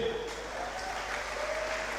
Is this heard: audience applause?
yes